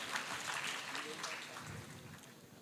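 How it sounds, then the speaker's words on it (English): A room of students at an induction event claps in a soft, distant round of applause that rises and slowly fades, with faint voices mixed in. "Can we have a round of applause for him?"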